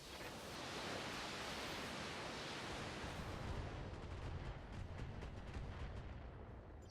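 Mech weapons firing on a building in the BattleTech video game, a dense, sustained roar of cannon and missile fire with rumbling impacts that stays loud and steady throughout, no voices.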